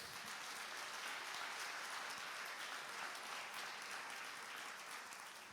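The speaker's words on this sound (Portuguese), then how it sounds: "Vamos aplaudir a Jesus?" A church congregation applauds in steady, dense clapping that holds for several seconds at moderate distance, with no voices over it.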